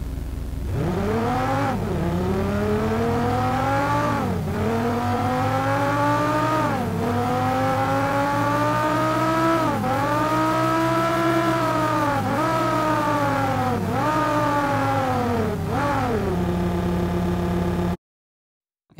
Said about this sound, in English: So now let's bring in our engine sound again and hear how those two sound together.